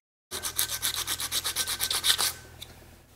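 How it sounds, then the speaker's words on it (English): A VW Golf Mk2 GTI cylinder head surface is sanded by hand in about a dozen quick, even rasping strokes, close and crisp, followed by a faint scrape after a short pause. "Now I'm going to sand off this surface"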